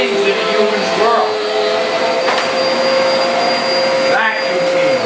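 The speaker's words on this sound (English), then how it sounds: "Vacuum cleaner." A vacuum cleaner runs close by with a loud, steady, high whining roar that shifts slightly in pitch a couple of times.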